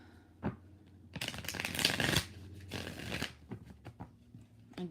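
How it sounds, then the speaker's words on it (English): Tarot cards shuffled by hand in a run of riffling, papery bursts with short pauses between them, close and fairly loud, with no talking over them. "We're going to do 5 shuffles."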